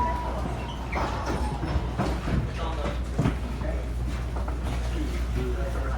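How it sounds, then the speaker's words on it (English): A MARTA eastbound Green Line train rolls toward King Memorial Station in Atlanta, with a steady low rumble and scattered rail clicks and rattles heard from inside the car. "This is your eastbound Green Line train to King Memorial Station."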